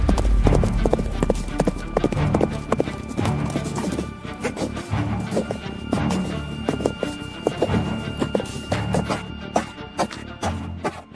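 Horse hooves clip-clop in a steady, brisk trot, loud and close, the rhythmic beats continuing throughout.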